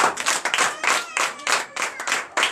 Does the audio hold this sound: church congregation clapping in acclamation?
yes